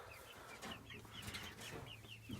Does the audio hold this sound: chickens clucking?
yes